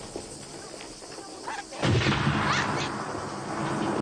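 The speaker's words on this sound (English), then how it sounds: "That was a gunshot?" A gunshot at a funeral in the 1974 film The Godfather Part II: a single loud, sharp blast lands midway with a booming, reverberant tail fading over quiet background sound.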